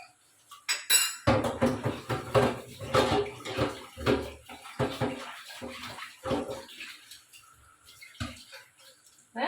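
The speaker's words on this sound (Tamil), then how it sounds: "அந்த கடாயையே கழுவி எடுத்துக்கிட்டேன்." Water splashes and sloshes in a metal kadai pan being washed, with scraping and clinking, busy at first and then thinning out into a few quieter knocks.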